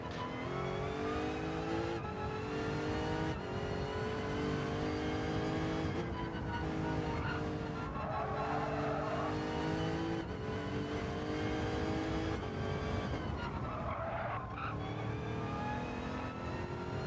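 Gr.2 race cars battling three wide in Gran Turismo 7, engines roaring and revving continuously at high pitch with overlapping gear changes, loud and close throughout.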